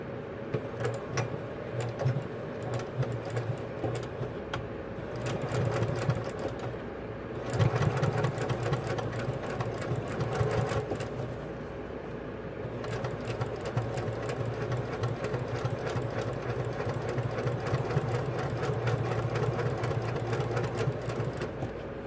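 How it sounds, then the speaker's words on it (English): A sewing machine runs steadily, stitching a fabric flap into place with a fast, continuous mechanical whir that swells briefly at moments, heard alone. "And now what we'll do is we will stitch this into place."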